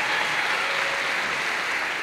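Audience at a high school choral holiday concert applauds the choir director, Mr. Hesse, a short, continuous burst of dense clapping from a large crowd at steady volume, with no talk.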